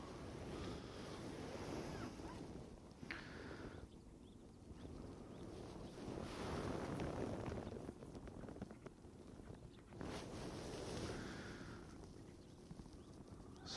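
Wind blowing steadily at an outdoor fishing pond, a broad rushing wash that swells and eases in gusts, buffeting the microphone with low rumble throughout and no talk.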